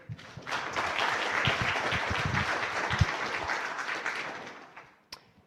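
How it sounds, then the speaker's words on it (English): An audience applauds a speaker being introduced at a talk on computational symbiosis, steady clapping from a roomful of people that swells, holds for several seconds, then fades, with one sharp final clap near the end. "So please, a quick round of applause for Mike, and he'll take it away."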